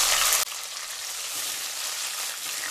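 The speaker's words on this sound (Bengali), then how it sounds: "ঘি মেল্ট হয়ে গেলে কয়েকটা চিনেবাদাম ভেজে নেব, সাথে দিয়ে দেব কিছুটা কিশমিশ" Peanuts, raisins and cashews fry in melted ghee, giving a soft, even sizzle after a brief louder burst at the start, steady and close with no voices.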